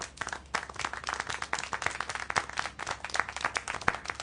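A crowd applauds steadily, many hands clapping in a dense, lively patter with a few sharper claps standing out, no voices.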